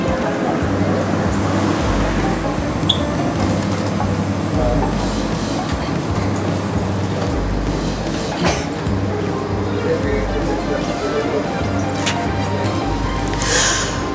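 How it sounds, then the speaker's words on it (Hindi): Airport train ride toward immigration on the way to Dubai, a continuous loud rumble of the railcar with rhythmic rail clatter, running steadily throughout with no talk over it. "आइए इस ट्रेन में बैठते हैं और चलते हैं इमिग्रेशन की तरफ।"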